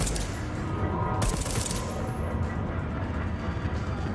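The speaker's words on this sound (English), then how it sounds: "My gun's going ballistic." Gunfire in the video game Deathloop, a dense, steady burst of rapid shots running nonstop at close range, with one sharper crack standing out near the middle.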